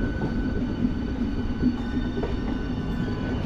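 A train pulling out of Howrah station, a steady low rumble of rolling carriages with faint rail hum, continuous and fairly close, no voices.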